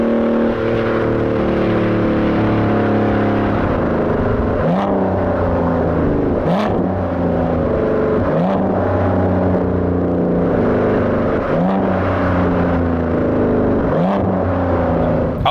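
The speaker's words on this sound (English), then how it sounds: "Let me give you some more of those sport mode downshifts" An Aston Martin Vanquish in sport mode runs through a series of gearbox downshifts, each marked by a sharp throttle blip and rising engine bark, repeating roughly every two seconds over a loud, continuous V12 drone.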